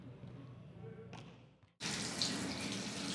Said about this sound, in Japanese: 朝起きて顔を洗います。